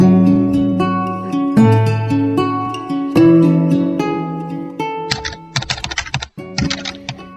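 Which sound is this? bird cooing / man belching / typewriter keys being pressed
typewriter keys being pressed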